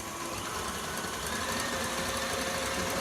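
An electric mixer runs steadily at high speed 8 whipping Swiss meringue buttercream, giving a continuous even motor whir with a faint rhythmic rattle, close and alone with no talking.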